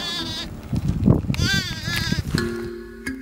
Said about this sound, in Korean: 한가롭게 잎을 뜯던 염소떼가 촬영팀을 먼저 반긴다